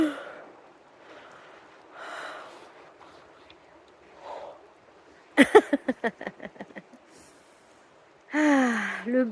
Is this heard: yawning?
yes